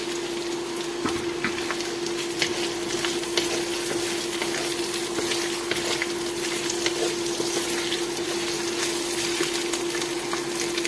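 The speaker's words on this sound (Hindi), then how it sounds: "अब हम इसमें ऐड करेंगे पोटैटोज और इसको ऑयल में थोड़ी देर फ्राई करेंगे" Potatoes frying in oil in a pan for an aloo palak dish, a steady dense sizzle with faint crackles and a constant tonal hum, loud and unbroken with no talking.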